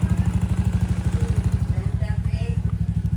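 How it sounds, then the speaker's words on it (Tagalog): A warmed-up motorcycle engine idles close by with a steady, rapid low thumping pulse, while faint voices come and go in the background. "napainit ko na yung motor ko"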